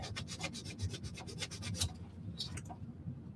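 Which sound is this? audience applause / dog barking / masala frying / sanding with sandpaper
sanding with sandpaper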